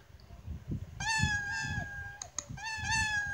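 The Scratch cat meow effect, played by a code block, sounds as two clear, close meows separated by a short pause over quiet background noise.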